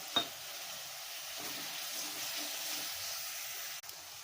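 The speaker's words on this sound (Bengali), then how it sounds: "হলুদ, লঙ্কা গুঁড়ো, জিরে গুঁড়ো, পরিমাণ মতো লবণ, একটু জল দিয়ে কষিয়ে নেব" Turmeric, chilli powder, cumin powder and salt cook in oil with a splash of water, giving a quiet, steady bubbling sizzle heard close, with a brief clatter near the start and a sharp click near the end.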